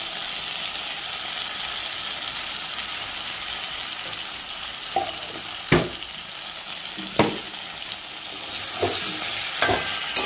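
Spice paste with a little sugar being stir-fried in a wok for a vegetarian flat bean curry: a constant close sizzle, punctuated by several sharp scraping stirs of the spatula against the wok, with no talking.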